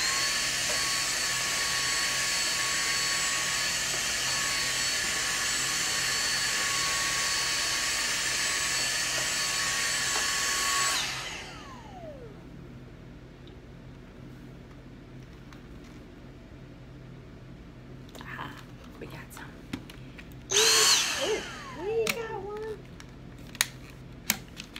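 A Dyson V6 cordless vacuum runs loudly and steadily with a high whine while dusting a printer, then cuts off abruptly; afterward a quiet room with faint handling clicks and a short scrape or two.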